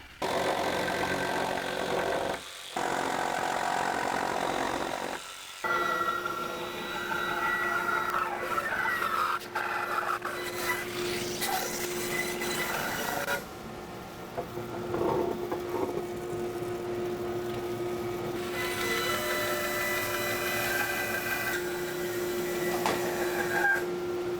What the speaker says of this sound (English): So I can start making these rough cuts and I can start milling them down to